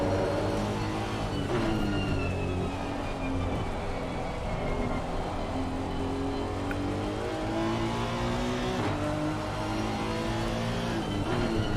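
A 2019 Honda NSX GT3 race car in the Assetto Corsa Competizione sim racing game, its engine droning loudly at high revs with repeated rising pitch sweeps through gear changes and other cars nearby, continuous and without talk.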